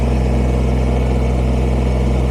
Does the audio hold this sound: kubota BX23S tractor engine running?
yes